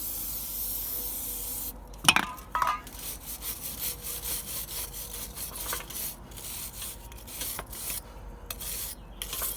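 Brisk scrubbing of a Dodge Caravan front brake rotor soaked with brake cleaner, a sustained rasping rub with a few sharp spray bursts and knocks near the start, close and steady throughout.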